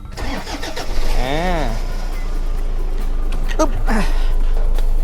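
A black 2005 Toyota Fortuner 3.0G 4x4 with a manual gearbox cranks close up, catches, and settles into a steady, loud idle.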